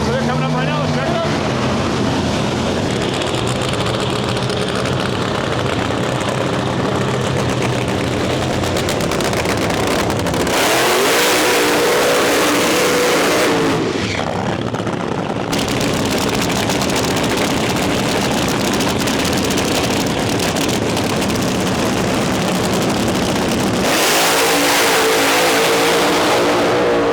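Nitro Funny Car drag racing engines at the Rocky Mountain Nationals in western Canada, a loud, harsh engine roar filling the clip, with sharp revving bursts around the middle and end and a voice talking over the noise.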